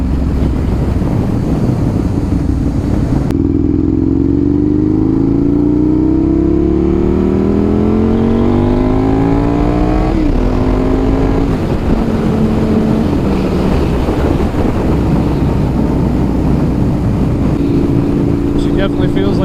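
Loud 2007 Aprilia RSV 1000R engine revving hard under throttle, pitch sweeping upward through several climbs and shifts, with heavy wind rush over the microphone throughout.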